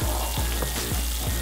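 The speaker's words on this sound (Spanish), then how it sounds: "al abrir la gofrera después de unos minutos, aparece un mar de aceite hirviendo" Hot oil and melted cheese sizzle steadily inside a waffle maker holding sponge cake batter, a close, loud, continuous crackle with a few soft low thumps.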